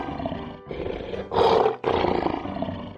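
A cartoon lion roars in three loud, close bursts, the middle one strongest, with brief pauses between and no talking.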